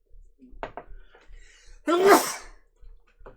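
During a tabletop Dungeons & Dragons game session, one loud, sharp sneeze bursts out near the mic after a stretch of quiet shuffling and soft knocks.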